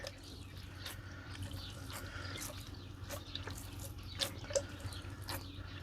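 Water is poured from above onto freshly sown lettuce seeds in soil, giving a soft, steady splashing trickle with scattered drips and a couple of sharper droplet splashes near the end.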